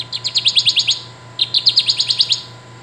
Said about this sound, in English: Kirtland's warbler,